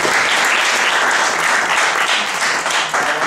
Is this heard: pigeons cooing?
no